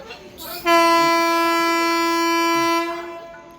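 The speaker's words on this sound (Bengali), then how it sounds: "এই আমাদের ট্রেন এবার ছাড়বে" A train horn sounds one long, loud, steady blast lasting about two seconds, close by, then fades into background noise.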